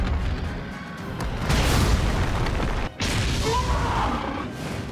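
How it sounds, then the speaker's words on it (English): A rock bomb explodes in the game Monster Hunter Stories 2: Wings of Ruin, a heavy, rumbling boom that swells, briefly cuts out, then rolls on with crashing debris. "But now he's gonna detonate the other one"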